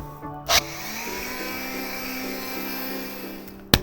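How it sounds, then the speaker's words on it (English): A power sander works the wooden surface of a buffet sideboard, giving a steady, close, even whir for several seconds. Short sharp knocks sound at the start and at the end. "I'm also going to sand this side"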